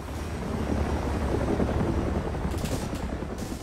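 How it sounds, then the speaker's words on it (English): In the Arma II video game, a tiltrotor Osprey aircraft drones loudly and continuously while it takes fire, with a few short bursts of gunfire late in the passage and no talk. "That's the Osprey getting shot."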